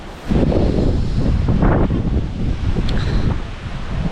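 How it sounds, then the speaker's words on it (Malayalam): Strong wind buffets the microphone on a hilltop in Eravikulam National Park, a loud, steady roar with gusty swells that continues for the whole stretch, with no voices. "പക്ഷേ ഇന്ന് നല്ല കാറ്റുണ്ട്."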